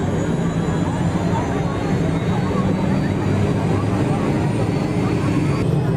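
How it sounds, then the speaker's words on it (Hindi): A helicopter starting up at a wedding procession's departure, its rotor blades beginning to spin. The engine and rotor drone is loud, continuous and close, with voices audible underneath. "हेलीकॉप्टर स्टार्ट हो चुका है, पंख घूमने लगे हैं"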